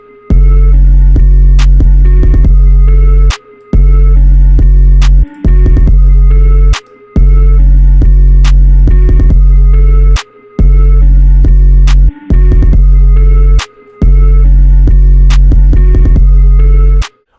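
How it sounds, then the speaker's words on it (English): Heavy, booming 808 bass notes play in a looping groove, sustained deep tones cut into repeated phrases with short gaps and a few stuttered hits. "now that we have kind of a basic groove for the 808"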